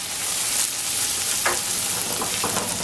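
Onions and mushrooms fry in a pan with a close, steady sizzle and crackle, and a few louder spits and stirring scrapes near the end, with no talking.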